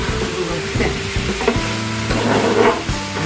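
Chicken frying in a pan in a restaurant kitchen gives a steady, fairly loud sizzle, broken by knocks and scrapes of stirring utensils throughout, with no talking.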